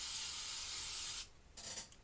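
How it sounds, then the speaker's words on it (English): An aerosol can of Rem Oil lubricant sprays onto rifle magazine parts in a steady, close hiss of about a second, followed by a shorter second burst after a brief pause. "I'll spray a little"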